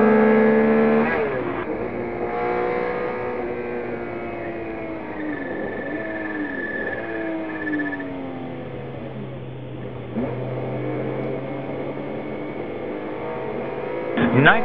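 A 1978 BMW M1 ProCar lapping a racing circuit during a historic Bonhams Cup race gives a steady engine drone with pitch shifts, heard under continuous commentary.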